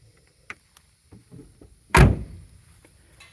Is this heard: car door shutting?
yes